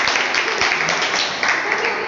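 Audience applause at a school farewell party poetry recital, a steady mass of clapping heard up close and continuing evenly for the whole stretch.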